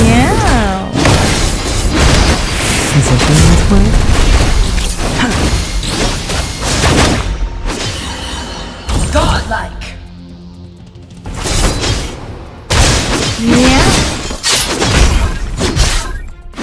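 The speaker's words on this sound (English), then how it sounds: "Your team has destroyed a turret!" A turret being destroyed in the Legends of Arena video game, loud crashing and shattering impacts with booms amid busy battle effects, while an announcer voice speaks over the action.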